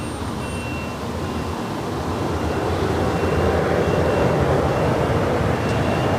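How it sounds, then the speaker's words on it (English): An Aer Lingus Airbus A330 arriving from Dublin at LAX makes a loud, steady, broad jet roar that swells slightly as it nears, heard alone without talk. "Aer Lingus, the A330 coming in from Dublin."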